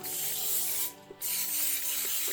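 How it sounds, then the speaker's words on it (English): A can of spray paint hisses onto a sketchbook page in two close bursts separated by a short pause, with a faint tap in the gap and soft rustling at the end. "I've been using spray paint"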